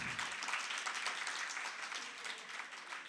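Audience at a Jain monk's religious discourse in Nagpur breaks into steady applause, a dense wash of many clapping hands that holds evenly for about three seconds with no talking over it.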